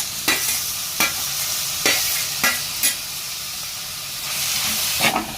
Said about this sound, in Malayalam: തക്കാളി, ഇഞ്ചി, വെളുത്തുള്ളി എല്ലാം ഒന്നിച്ചിട്ട് കൊടുക്കാം